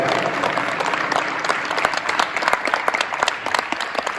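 Many people at a Martin Luther King Day gathering in Greenwood, South Carolina clap their hands, first as a dense wash of applause, then as sharper, more rhythmic claps near the end.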